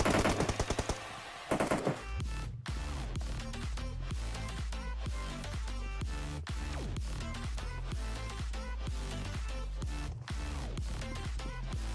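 Gunfire from the video game PUBG Mobile rattles out in rapid automatic bursts, sharp repeated cracks close and loud, with short pauses between strings of shots.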